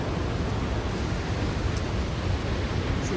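Crescent Falls in Alberta pours down close by, a loud, unbroken rushing roar of falling water with no change in level and no voices.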